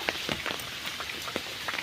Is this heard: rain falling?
yes